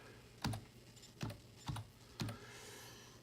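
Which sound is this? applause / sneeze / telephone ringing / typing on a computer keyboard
typing on a computer keyboard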